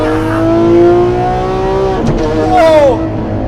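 A Lamborghini Aventador SVJ V12 revs hard toward its high limit with a long, rising engine howl, then comes a sharp break and a second shorter scream. Loud and close, and a voice is faintly heard underneath.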